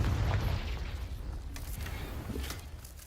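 A fiery explosive spell in the Hogwarts Legacy game bursts with a deep, rumbling boom that rolls on and fades, followed by lighter crackling debris.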